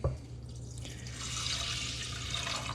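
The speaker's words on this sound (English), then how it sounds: "we're gonna put the water in" Water is poured into a pot of rice for a simple Japanese meal, a steady, close splashing pour that runs continuously and alone for a few seconds.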